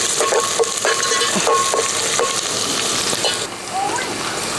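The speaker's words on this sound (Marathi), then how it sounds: "कढीपत्ता, आता हे पूर्ण ना लाल होईपर्यंत थोडंसं फ्राय करायचं।" Curry leaves frying in oil in a pan for a village-style mutton curry, crackling in a loud, busy sizzle close up, with repeated stirring scrapes and taps throughout.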